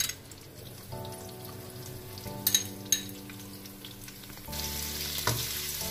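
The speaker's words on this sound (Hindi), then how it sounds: "इसे फ्राई करेंगे।" Chopped onions fry in about four tablespoons of hot oil in a pan on the stove, giving a steady close sizzle that swells louder partway through, with a few light stirring clicks.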